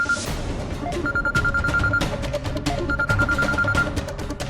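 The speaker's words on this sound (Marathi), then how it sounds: "मी कधीपासून तुम्हाला सुजित सरांना फोन करतोय." A telephone rings with an incoming call, repeating bursts of electronic ringing in a regular pattern over a busy background of other sound, with no talk.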